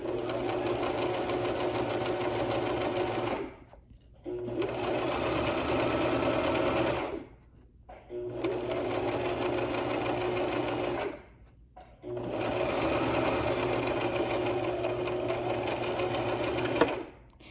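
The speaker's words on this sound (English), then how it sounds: "At the end, we're going to reverse about 3 and then sew off the edge." Sewing machine stitching a fabric face mask along its lining seam, running in three long steady whirring bursts separated by short pauses, close and loud.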